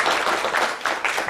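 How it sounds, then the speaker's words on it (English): Crowd applause in a hall at a national pharmacology conference, a dense, continuous wash of many hands clapping at once, moderately loud and unbroken. "Please give him a big applause."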